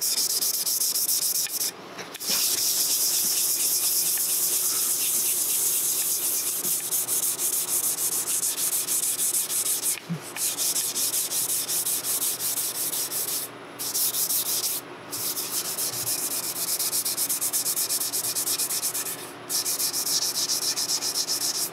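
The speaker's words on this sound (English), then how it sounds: "Basically, I'm rubbing it back pretty hard to try to more or less maximize the contrast" Stained maple wood rubbed hard by hand, a continuous close abrasive scrubbing with steady back-and-forth strokes, broken by a few brief pauses, with no voices.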